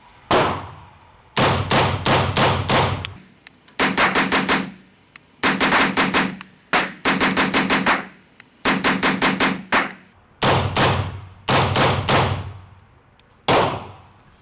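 A firearm fitted with a suppressor wearing a Kevlar can cover fires 30 rounds outdoors in rapid strings of sharp, loud cracks, grouped into bursts separated by short pauses, with no talking.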